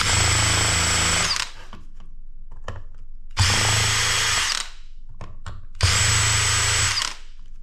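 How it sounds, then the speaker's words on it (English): An electric screwdriver backs screws out of small electronic scrap in three loud, whirring bursts of about a second and a half each. Soft clicks and handling noises fill the short gaps between bursts. "put it in one of my drivers or electric screwdrivers here"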